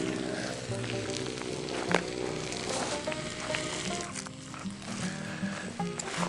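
Food crisps on a Blacklock cast iron griddle over a campfire breakfast setup, giving a steady broadband sizzle throughout with a brief louder pop near two seconds and faint background activity.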